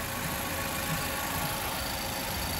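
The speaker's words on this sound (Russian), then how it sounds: "Двигатель шепчет." A Japanese minibus with a 2-litre engine idles with a quiet, steady broadband hum and no other sounds over it.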